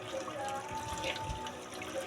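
Running water splashes in a sink while dishes are washed, a faint, steady close trickle and spatter.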